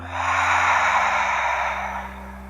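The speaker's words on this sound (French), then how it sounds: "Et une expire par la bouche, on se détend." A long, steady breath out through the mouth during a yoga session, a soft breathy whoosh that swells and slowly fades over about two seconds, close to the microphone and with no talking.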